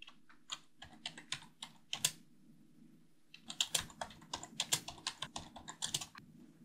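Typing on a computer keyboard, quiet close-up clicks in quick irregular bursts, with a short pause before a denser flurry of keystrokes.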